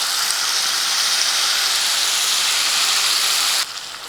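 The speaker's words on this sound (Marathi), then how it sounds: "आता हे वाटण आपल्याला चांगलं तेल सुटेपर्यंत परतून घ्यायचं" Ground spice paste for dhaba-style palak paneer sizzles steadily in hot oil with cumin, a loud continuous hiss and crackle close to the pan that drops off abruptly near the end.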